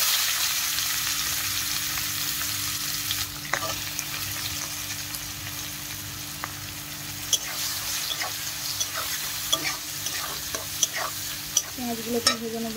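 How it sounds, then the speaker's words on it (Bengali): Chopped onions frying in oil with bay leaf and dried red chilli, a continuous close sizzle broken by scraping stirs that grow more frequent and sharper toward the end. "পেঁয়াজগুলোকে ভেজে নেব"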